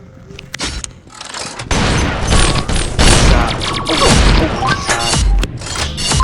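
Springy shotgun blasts in Pixel Gun 3D on the Paradise Resort map: a loud, dense stretch of booming shots and crashing impacts, packed close together with almost no gaps.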